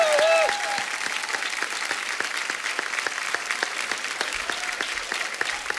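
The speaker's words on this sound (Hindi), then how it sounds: "एक बार टीम के लिए जोरदार तालियां" A studio audience at The Kapil Sharma Show claps for the show's team, strong continuous applause with crisp individual claps throughout and a brief voice at the start.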